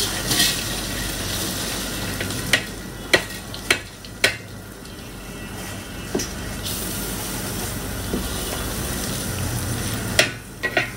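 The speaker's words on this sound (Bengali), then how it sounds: "চালগুলোকে না নাড়াচাড়া করে ভালো করে ভাজবো।" Broken rice grains fry in oil with black cumin, bay leaf and dried chili, giving a steady close sizzle with scattered sharp clicks and pops from stirring.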